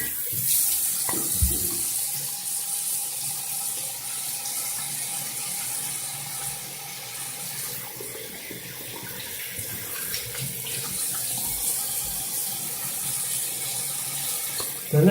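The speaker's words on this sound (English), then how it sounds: "Alright, I'm going to wash my face off." Steady hiss of hot water running from a tap into a sink during face washing, continuous and fairly close, with occasional splashes and small handling knocks throughout.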